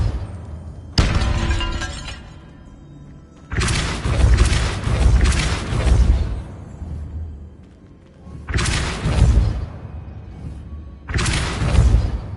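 A Depulso force spell cast in Hogwarts Legacy, heard as three loud, booming blasts with shattering crashes, each lasting a couple of seconds and separated by quieter game ambience.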